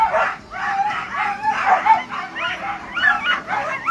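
Nordic sled dogs at a race start in Les Gets bark, yip and whine in a continuous, excited chorus of overlapping bursts, fairly close and loud, with no clear pauses.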